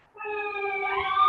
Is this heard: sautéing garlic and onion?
no